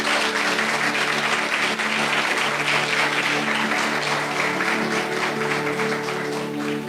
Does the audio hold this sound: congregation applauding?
yes